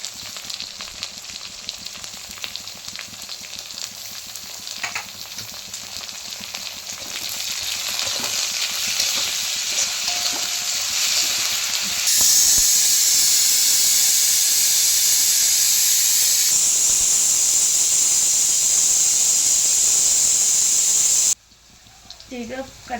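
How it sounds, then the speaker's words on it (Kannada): Fenugreek leaves fry with onions and chicken in a pan, a steady sizzling hiss that grows louder and brighter midway, with occasional stirring scrapes, then cuts off near the end. "ಅಂದ್ರೆ ಮೆಂತ್ಯನ ಉಳ್ಳಾಗಡ್ಡಿ ಜೊತೆಗೆ ಫ್ರೈ ಆಗ್ಬೇಕ್ರಿ."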